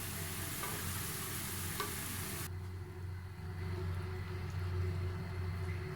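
Semolina halwa frying in oil while being stirred in a pan, a steady close sizzle with scraping stir strokes that drop in brightness partway through, no voices.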